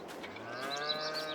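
A single drawn-out cattle moo from the herd in Farming Simulator 22, rising slightly in pitch, fairly soft and alone over a quiet background.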